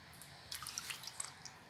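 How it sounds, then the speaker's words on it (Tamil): Soaked moong dal being washed in water, light irregular drips and small splashes of water trickling in quick bursts, soft and close with no voices. "2 ஸ்பூன் அளவுக்கு பாசிப்பருப்பு ஒரு 10 நிமிஷம் தண்ணியில் ஊற வச்சுருக்கேன். பீர்க்கங்காய் பருப்பு கடையிலுக்கு இதை வாஷ் பண்ணிவிட்டு நம்ம குக்கரில் சேர்த்துக்கலாம்."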